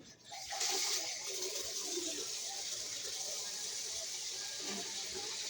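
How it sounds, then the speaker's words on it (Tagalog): Water is poured for bathing at a rural home, a steady loud gush and splash that starts after a short moment and keeps going close by, with faint voices under it. "maligo ako ng tubig."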